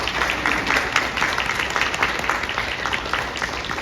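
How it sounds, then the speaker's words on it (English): An audience at a Putnam County, West Virginia presentation on xylazine claps in a dense, continuous round of applause that holds steady at moderate volume throughout. "so we can give them a round of applause"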